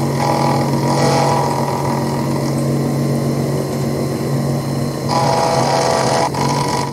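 A milling machine end mill cuts a V-groove, giving a steady mechanical whir with tonal hum. Two louder bursts of cutting noise rise at the start and near the end.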